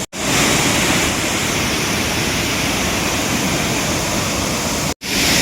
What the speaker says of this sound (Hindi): भाई दिस इज दी वाटरफॉल जिसके लिए हम इतना रास्ते तय करके आए। Can you here the sound guys?